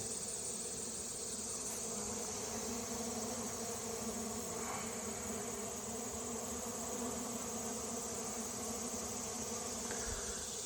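Steady insect buzzing hums throughout, a constant soft drone of many honeybees flying around a hive nearby with no voices.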